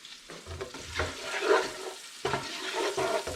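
Fried rice is stir-fried and tossed in a pan over a medium flame, with close scraping and rustling strokes in uneven bursts over a soft sizzle. No voices are heard.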